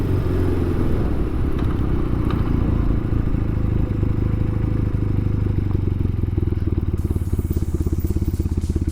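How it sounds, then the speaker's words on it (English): An old motorcycle idles and putters at low speed while turning on gravel, its engine a steady close rumble with faint crunching and clatter throughout. "Making me turn around on gravel on this bike."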